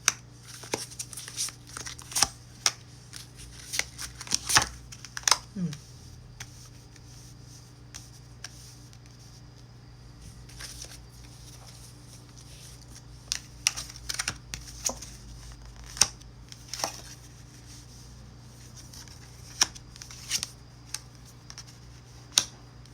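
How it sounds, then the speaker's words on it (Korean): Tarot cards are handled close by during a reading. Quiet, irregular clicks and soft riffling snaps sound over a low steady hum, and no one speaks. "제가 카드 나를 드릴 테니까 원하시는 카드 골라주시면 됩니다."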